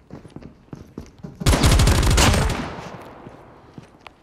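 Pistol gunfire in Call of Duty erupts as a loud, rapid string of shots lasting about a second, then rings out in a fading echo. Faint footsteps tap before and after.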